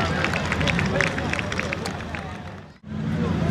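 Crowd noise at a tractor pulling final in Cervarese Santa Croce, a dense steady hubbub of cheering and clapping from a large outdoor audience, briefly dipping before surging back, with voices mixed through it.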